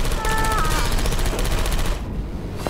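A turret in Portal 2 fires a rapid, loud stream of machine-gun bursts that runs steadily for about two seconds and then breaks off, with a brief electronic tone early on.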